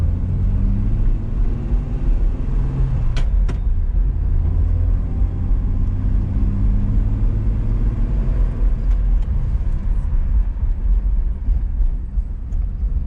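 A 1966 Dodge Coronet with a 225 Slant 6 engine and three-on-the-tree manual shifting, driving along with a steady loud low rumble of engine and road noise heard from inside, a couple of brief clicks partway through.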